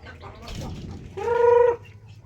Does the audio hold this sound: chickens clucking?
yes